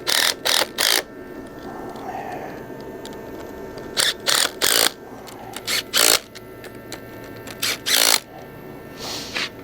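A ratchet fitted with a narrow socket turns in repeated short bursts of fast, dry clicking, each lasting about half a second with gaps between, heard close over a faint background hum.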